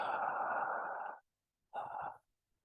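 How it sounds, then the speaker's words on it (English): Slow, controlled breathing close to a microphone: a long, steady airy breath, a short silence, then a second softer breath that tails off into quiet, with no talking. "Gentle breath in, slow,"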